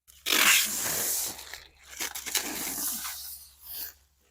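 Packing tape ripped off the roll, a loud, close sustained tearing screech that stops briefly and resumes in two more long pulls, with no talking.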